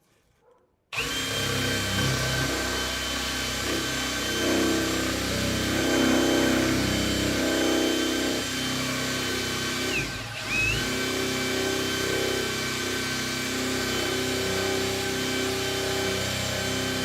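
Ryobi power grinder working on a steel pipe, starting abruptly after a second of near silence and running loud and continuous, with a brief dip in load around the ten-second mark before resuming.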